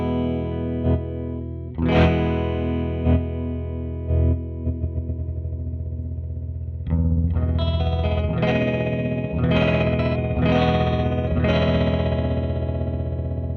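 Electric guitar chords chopped by a Catalinbread Tremolo8 pedal into rapid stuttering pulses, then a denser strummed section with the same fast on-off choppy tremolo.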